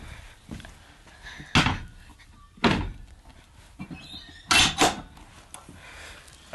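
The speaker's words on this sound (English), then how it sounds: "close the other breech door and then we'll close the tailgate" Metal breech door and tailgate of a horse float swing shut with three loud, close thuds and clanks, spaced a second or two apart, with quieter rattles of latches between them.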